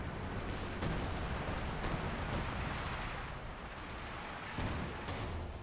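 Artillery barrage in Company of Heroes 2: dense, rumbling booms and blasts crowd together, some closer and sharper, a continuous battle roar heard at low volume.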